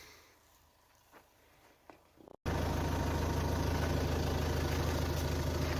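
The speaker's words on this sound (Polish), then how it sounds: "Tylko słychać klekot naszego silnika." A quiet winter outdoor lull breaks abruptly into a loud, steady camper van engine idle close by, a constant rattling drone with a low rumble underneath.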